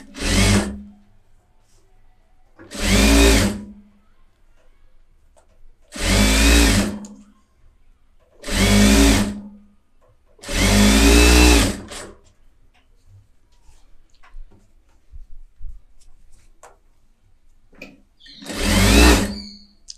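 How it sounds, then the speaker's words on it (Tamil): A sewing machine stitches an edge seam along a hem in six short, loud, close bursts of whirring, separated by quiet pauses, with a longer gap before the last run. "இப்போ கீழே ஓரத்தில் எஜ்ஜு தையல் நான் போடுறேன்."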